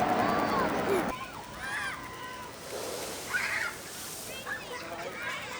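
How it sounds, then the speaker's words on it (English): Amusement park water ride boat splashing at Knoebels Amusement Resort, a loud burst of water at the start followed by sloshing and smaller splashes, with people talking and shouting over it. "Wow, that is a big splash from that thing."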